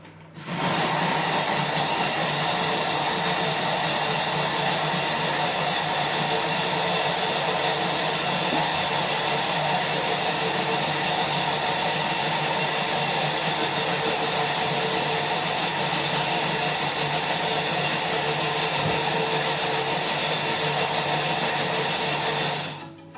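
Electric mixer whirring steadily through chocolate cake batter, a loud continuous buzzing drone running unbroken for the whole stretch with no talking.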